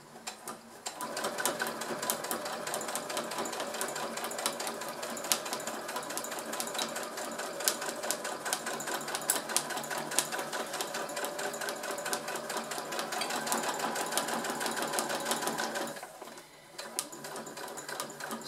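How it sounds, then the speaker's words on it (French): A sewing machine runs at a fast, even clatter while stitching a fabric glasses case. It runs close and continuous, pauses briefly near the end for a corner, then starts again. "je plante mon aiguille, je lève le pied et je repars sur ma couture"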